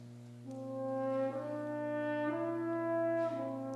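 An orchestral string section plays a slow, quiet tune in a major key, sustained notes changing gently every second or so, with no voices.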